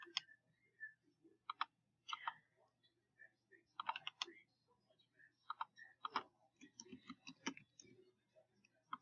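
Typing a street address on a computer keyboard: quick irregular bursts of key clicks with short pauses, close and fairly quiet.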